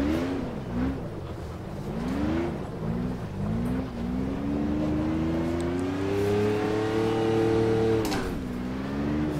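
A McLaren F1 engine in the Automobilista racing game revs and bogs repeatedly on snow at the Nürburgring, the pitch rising and dipping in waves as the wheels spin, loud and continuous.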